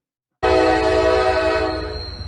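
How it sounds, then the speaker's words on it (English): A freight train horn blasts suddenly and loudly from close by, holding a steady multi-tone chord for about two seconds before fading slightly as the train passes through East Palestine. "we can watch 38 seconds of a choo-choo"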